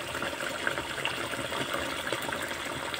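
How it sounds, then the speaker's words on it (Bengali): Gravy poured into a pan of eggplant and pangas fish curry, a steady close liquid gush and splash running evenly for a few seconds. "তো বন্ধুরা এবার আমি তরকারিতে ঝোল দিয়ে দিচ্ছি।"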